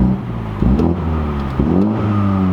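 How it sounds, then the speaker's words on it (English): A 2020 MINI Clubman John Cooper Works engine revs in short bursts, the exhaust rising sharply twice, loud and close, over a steady low idle rumble. "the exhaust changes as well"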